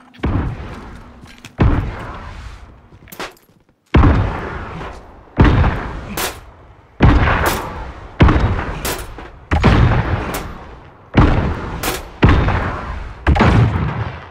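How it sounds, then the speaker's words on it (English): Frag grenade blasts and gunfire in the Warzone battle royale shooter: a run of heavy, booming bursts roughly every second, each decaying before the next, loud and close, with sharp cracks between. "Throwing frag grenade."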